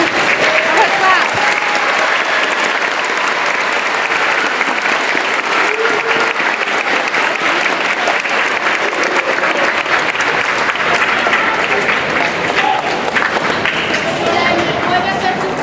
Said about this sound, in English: And we are going to give you a clap.